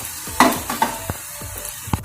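Masala and spices sautéing in refined oil for a chicken roll filling, with a soft sizzle under scattered close stirring scrapes and clinks over about two seconds.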